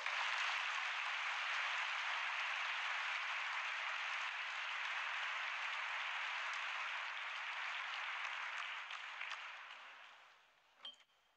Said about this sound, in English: Let's give them another round of applause.